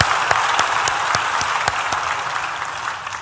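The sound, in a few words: church congregation applause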